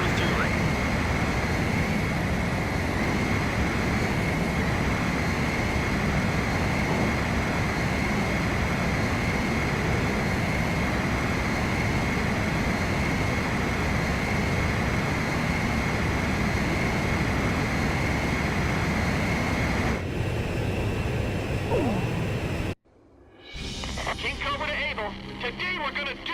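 Jet aircraft engine roar during aerial refueling in Ace Combat 5, a steady loud drone held for a long stretch, then cutting out abruptly into quieter radio chatter and mixed sounds.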